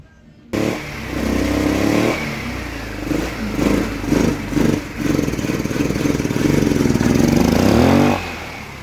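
A GY6 scooter engine, 50-150cc and hard to start, revving close up: a loud, buzzy roar that rises in a series of quick throttle blips, then holds a sustained high rev before dropping back.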